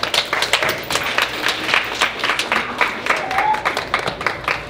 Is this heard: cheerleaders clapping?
yes